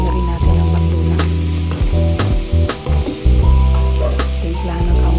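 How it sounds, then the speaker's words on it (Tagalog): Chicken and carrots frying in a pan while being stirred, a loud steady sizzle with clanking utensil scrapes and knocks against the pan at irregular intervals. "nilagay ko na yung carrots. Haluin lang ulit."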